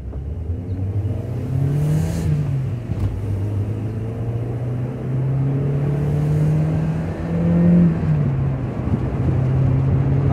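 A high-mileage, warmed-up VW Golf IV Cabrio pulls away from a standstill, its engine droning loud and steady with rising and falling revs as it accelerates through the gears, no talk over it.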